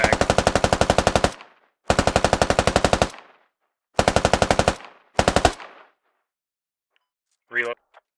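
Machine gun fire in the video game Squad: four loud, close bursts of rapid shots with short pauses between them, the last one brief, followed by quiet and a faint electronic blip near the end.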